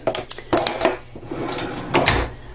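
A kitchen utensil drawer slides and bumps with rattling clatters of metal utensils inside, several sharp close knocks over a couple of seconds.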